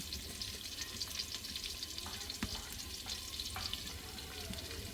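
Chopped onion and garlic paste frying in oil for mutton curry, a quiet, continuous crackling sizzle dotted with faint spoon taps, close and low in level, no talking.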